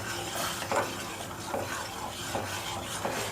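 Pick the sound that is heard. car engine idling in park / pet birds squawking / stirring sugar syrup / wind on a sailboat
stirring sugar syrup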